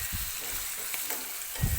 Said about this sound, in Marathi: तर टोमॅटो सुद्धा हलकासा मऊ होईपर्यंत आपल्याला भाजून घ्यायचा आहे.